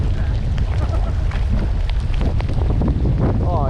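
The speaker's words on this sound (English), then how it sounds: "It's getting windy now." Strong wind buffets the microphone on a lake in North Dakota during white bass fishing, a loud, continuous low roar with gusty rumble, with faint voices and other sounds partly audible beneath it.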